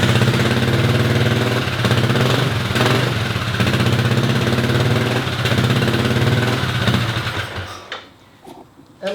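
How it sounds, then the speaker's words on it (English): A Kymco scooter engine idling up close, giving a loud, steady, buzzy putter that runs evenly for several seconds before dropping away near the end. "the best thing at least is that the bike now starts"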